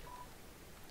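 A short electronic dial tone from a cell phone in the video game Undertale sounds faintly once near the start, over a quiet hiss.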